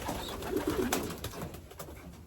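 Young racing pigeons coo softly in a loft, low throaty murmurs close by over a steady background hum.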